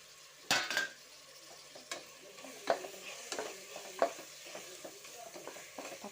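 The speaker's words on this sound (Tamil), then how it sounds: "தக்காளி நல்லா வதங்கட்டும்" Tomatoes sautéing in a pan for chicken biryani: a soft background sizzle broken by intermittent spoon scrapes and sharp metallic clinks against the pan, fairly quiet and close, with no talking.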